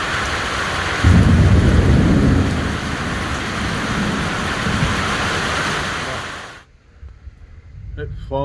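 A heavy thunderstorm pours rain onto a tent. There is a loud, dense hiss of rain and a deep rumble of thunder early on, then an abrupt cut to near quiet with a brief voice at the end.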